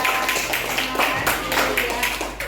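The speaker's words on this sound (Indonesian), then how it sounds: "kasih tepuk tangan untuk kelompok 1" A classroom group claps for a student team after its presentation, a short patter of light, fairly rhythmic claps from a small group with a steady low hum beneath.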